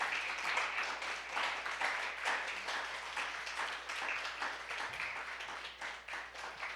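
A church congregation claps and applauds steadily, a dense, continuous wash of many hands heard from some distance, moderately quiet and unbroken throughout.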